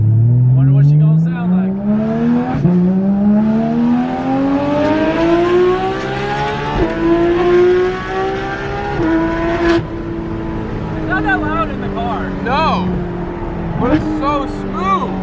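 A Porsche 991.2 GT3 RS flat-six revs loudly up through the gears, pitch climbing steadily, then drops through blipped downshifts with crackles and pops near the end, heard close from inside the car.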